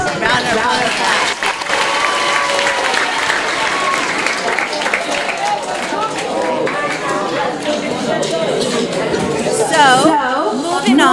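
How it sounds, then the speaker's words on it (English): Students in a school meet-up session applaud steadily throughout, a busy spread of clapping mixed with murmured chatter and a few raised voices near the end. "Round of applause."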